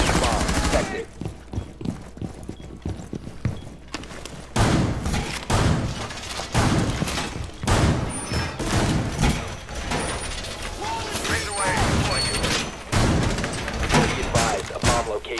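Bursts of gunfire from a Rainbow Six Siege match crack out in clusters, some rapid automatic strings and some single shots, loud and near, with in-game voices talking between and over them.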